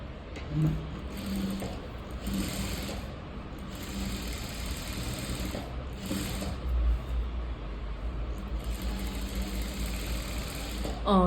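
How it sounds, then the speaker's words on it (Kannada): A sewing machine stitches a silk blouse, its motor whirring in bursts with short pauses between runs, close and steady, with faint talk in the background. "ಇದನ್ನು ಈ ಥರ ಎರಡು ಸ್ಟಿಚ್ಚನ್ನು ಹಾಕ್ಕೊಳ್ಳಿ"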